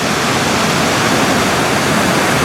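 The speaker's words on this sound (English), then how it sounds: "this little falls above the Dijandi Falls is not just a mere cascade" Dijandi Falls in Iceland, a waterfall cascade above the main falls, roars as a loud, steady broadband rush of falling water, continuous and close with no pauses.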